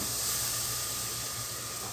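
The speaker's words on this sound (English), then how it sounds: "ooh, sizzle" A buttered tortilla sizzling in a hot pan, a steady loud hiss and crackle filling the whole moment, close and without talk.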